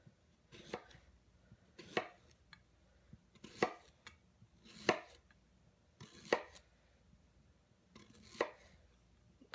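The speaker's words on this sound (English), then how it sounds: "if I chop it up or if I cut it up, I won't even really know that I don't like it" A knife chopping a radish for a southwestern chicken salad in a home kitchen: about seven crisp, evenly spaced cuts against a board, close and clear, with no talk.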